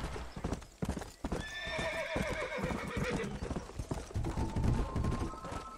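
A horse in the video game Red Dead Redemption clops along and lets out a clear, close neigh, its hoofbeats steady under game ambience.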